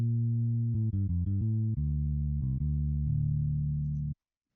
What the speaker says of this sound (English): No, this is a different bass.